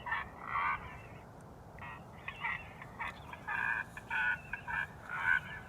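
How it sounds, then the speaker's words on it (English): An odd, croaking bird call repeats in a run of short, raspy bursts near the runway at Amsterdam Schiphol Airport, fairly faint over a low background rumble. "you guys tell me what that bird would be that makes such a strange sound"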